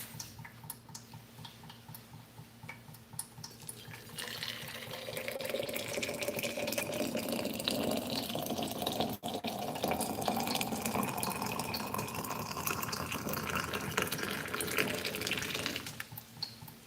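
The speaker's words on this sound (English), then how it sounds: "Wow, it's dripping so bad right now." Water dripping heavily, a quiet, continuous patter of drops with faint clicking through it. The patter grows denser in the middle stretch before easing off near the end.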